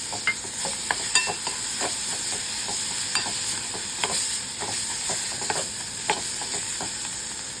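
Freshly ground garam masala roasting in a hot pan for a Konkan-style tender cashew curry, with a steady close sizzle under frequent scraping stirs of a spoon against the pan, no voices.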